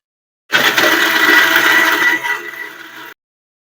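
A semi-automatic vegetable and fruit slicer machine cutting a vegetable, a loud, close whirring grind that starts abruptly, holds steady for about two seconds, then thins out before stopping sharply.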